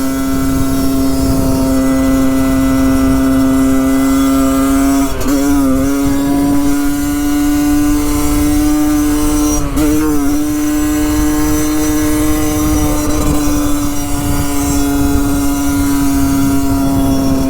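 A Yamaha DT 50cc motorcycle engine idles steadily and loud, its carburetor running rich, with two quick blips of the throttle partway through.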